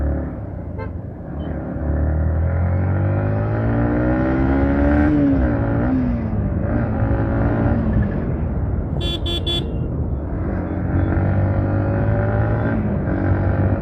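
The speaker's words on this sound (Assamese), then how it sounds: "চাওক বাইক কি মজা মানে দৌৰিছে কৈছোঁ ন" A Yamaha MT-15 motorcycle is ridden on the road, its engine note rising and falling through gear changes, with a brief horn toot partway through and steady wind and road noise.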